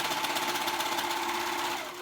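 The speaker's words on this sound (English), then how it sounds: "I'm gonna go ahead and sew those edges." A sewing machine stitches the edges of a girl's dress, a fast continuous mechanical whir close by that eases off slightly at the very end.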